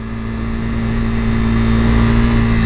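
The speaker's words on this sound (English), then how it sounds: "Watch this video right now of me testing the top speed of this motorcycle, the NS400, on the Chakan test track" A Bajaj Pulsar NS400 motorcycle accelerates hard on the Chakan test track, its engine droning loud and steady with a slowly climbing pitch.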